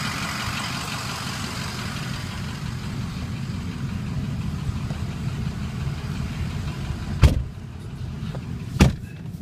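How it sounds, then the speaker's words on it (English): A 2007 Ford F-350 diesel truck on a test drive fills the cabin with a steady low engine drone, broken by two sharp knocks or thumps near the end; no one speaks. "Let's take you guys on a short test drive"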